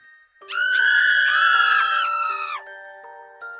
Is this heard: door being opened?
no